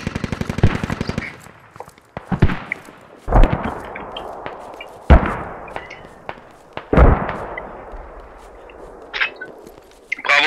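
Rapid bursts of automatic gunfire and single sharp shots in a video game clan match crack repeatedly, loud and close, in uneven volleys with brief gaps between them.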